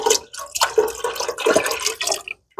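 Milk pours into a pot while making champurrado, Mexican hot chocolate, a close, splashing, gurgling stream that keeps up for a couple of seconds and then stops.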